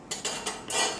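Metal lid set onto a cooking pot of biryani rice, a few quick clanks and scrapes of metal on metal, close and clear with no talk.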